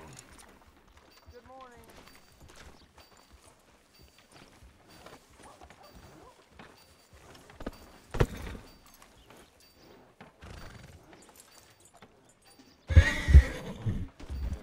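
In Red Dead Redemption 2, a horse whinnies and snorts while its hooves clip-clop on the ground, moderately close, with louder bursts of movement near the end and speech heard over the scene.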